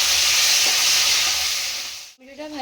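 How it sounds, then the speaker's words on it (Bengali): Tomatoes and green chillies fry in a pan for a mutton and potato curry, giving a loud, steady sizzle that cuts off abruptly near the end, followed by a brief voice. "টমেটো দিয়ে দিলাম, কাঁচা লঙ্কাগুলো দিয়ে দেবো। এটাকে দিয়ে একটু আগে ভেজে নেবো।"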